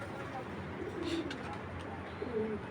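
Fitki pigeons, a big-sized pair, cooing faintly and briefly, buried under steady background hiss with no talking.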